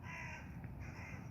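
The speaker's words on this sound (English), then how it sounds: "Crows up in those trees." Crows calling from trees, a few harsh caws rising over steady outdoor background noise, moderately distant and fairly faint.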